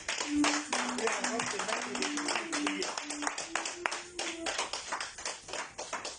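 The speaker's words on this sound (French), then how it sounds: "tu vas acclamer très fort" A church congregation clapping and cheering loudly, with dense rhythmic hand claps running throughout under singing or chanting voices.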